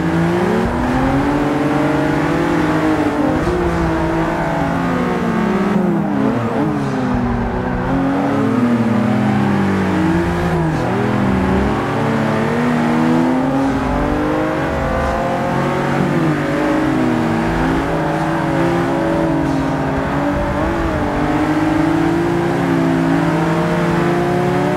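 A Lotus Exige S driven hard around a race track, its engine droning loudly and steadily from inside the car as the revs climb and fall through gear changes and corners, with no talking.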